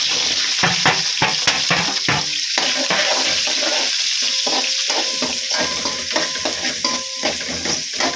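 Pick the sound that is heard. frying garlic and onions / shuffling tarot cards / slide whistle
frying garlic and onions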